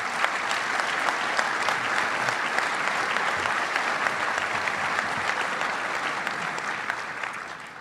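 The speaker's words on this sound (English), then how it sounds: "Please let's give a round of applause to her." A room full of people at a Little Rock Touchdown Club luncheon gives a sustained round of applause, dense and even clapping from many hands that holds steady, then begins to thin at the end.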